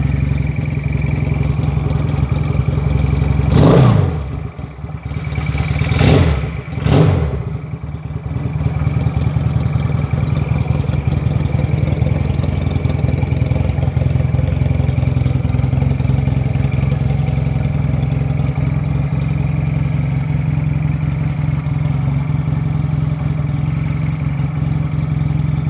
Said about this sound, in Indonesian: antara bunyi knalpot sama mesinnya, mesinnya kencang juga bunyinya.